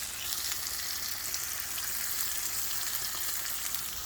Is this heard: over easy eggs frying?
yes